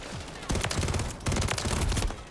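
Rapid automatic gunfire from a video game match in Call of Duty MW3, two dense loud bursts of rattling shots separated by a brief gap, fairly close.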